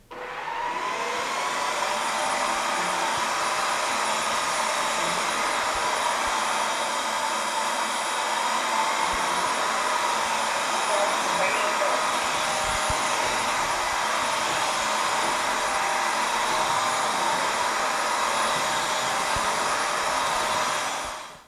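A Redkey W12 upright vacuum cleaner with a mop function runs continuously at close range, producing a steady, loud motor whine with a broad airy roar that holds unbroken for about twenty seconds.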